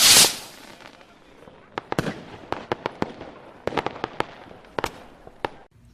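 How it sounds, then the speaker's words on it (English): Fireworks crackle and pop on the 4th of July during an outdoor barbecue cook, starting with one loud close burst and followed by scattered sharp bangs at irregular intervals, some near and some more distant. "We already got some fireworks going off."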